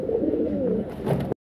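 Several pigeons from a breeder's pairs coo in low, rolling murmurs close by, the sound steady and continuous before breaking off abruptly near the end.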